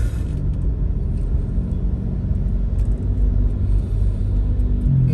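Steady low rumble of heavy December road traffic in Cebu City, with car engines idling and crawling in a continuous loud drone, no voices.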